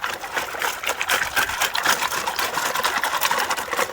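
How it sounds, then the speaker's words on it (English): Creek water rushing and trickling through gravel being dug and washed, a close, continuous gurgling wash with rapid uneven pulses and no voices. "Get some water to come through here to wash it."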